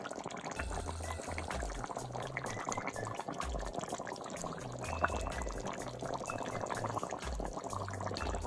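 Jamaican curry turkey gravy with allspice berries simmering and thickening in a pot, a continuous soft bubbling and popping with dense irregular blips, steady and close with no talk.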